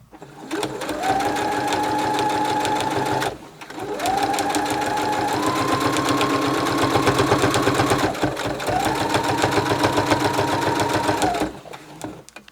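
Sewing machine stitching backing onto a handmade yarn pillow, a loud close mechanical whir running in three long steady stretches with brief stops between.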